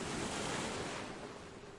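Broad rushing surf of ocean waves, a steady wash of noise that swells at the start and eases slightly toward the end, with no voices over it.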